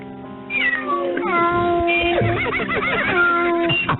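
A cat meows repeatedly, a string of loud, close, wavering cries of varying pitch running almost without pause, with faint laughter or voices in the background.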